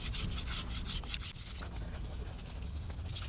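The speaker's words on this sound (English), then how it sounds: "let's just wet sand that" An RV wheel rim scrubbed by hand with wet 1000 grit sandpaper, a steady close rubbing rasp that runs continuously with rhythmic strokes and no voices.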